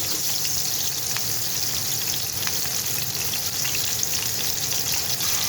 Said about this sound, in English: Into that pan I'm just going to add a little bit of red onion. Just going to soften that up.